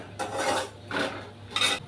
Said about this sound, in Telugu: పల్లీలు మంచిగా బాగా వేగే వరకు మంచిగా వేయించుకోవాలి